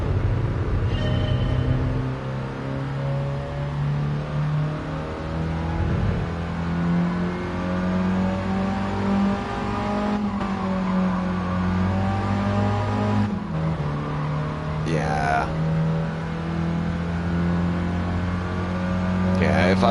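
A stock Mini Cooper engine revving and pulling while driving, its tone rising and dropping between gear changes, with a person talking over the drone.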